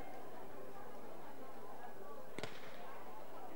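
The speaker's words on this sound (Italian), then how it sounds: "Tanto lo sparo dice che è partita la gara dei metri 200 seconda serie." A starting pistol fires for the second heat of a 200 metres race at an Italian masters athletics championship: one sharp, moderately distant crack rising out of a steady crowd murmur.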